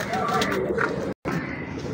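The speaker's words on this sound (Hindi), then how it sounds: "कमाल का ब्रीडर कबूतर है जी माशाल्लाह" A breeder pigeon in Lahore coos in low, throaty murmurs close by while someone talks over it, with a brief silent break partway through.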